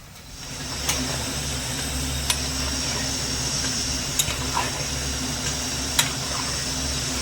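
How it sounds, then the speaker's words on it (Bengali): Carrot chomchom sweets fry in oil over medium-high heat, giving a steady, dense sizzle with a constant hiss and a few brief crackles and pops, close and continuous throughout. "অল্প সময়ের মধ্যে ভাজা হয়ে যাবে মিডিয়াম থেকে হাই আছে মাঝামাঝি রেখে কিন্তু ভাজতে হবে"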